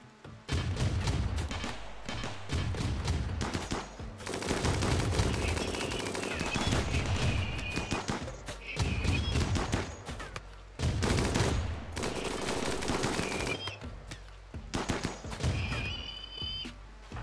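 Rapid, heavy automatic gunfire from a heavy turret in RimWorld rattles in sustained bursts with brief pauses, loud and close, with faint voices now and then.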